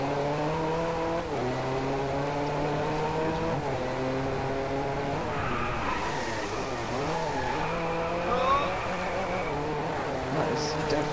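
Racing-game car engine drifting in DriveClub, harmonic engine tones sweeping up and down with a high squealing streak of tire noise, loud and continuous over most of the stretch.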